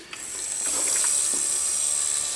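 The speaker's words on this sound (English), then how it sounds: "the water pump is in action and it's filling the chamber" The water pump inside a working Keurig K155 coffee maker runs to fill the brew chamber, a loud, steady high-pitched whine with a mechanical buzz and a few faint clicks at the start, no talking.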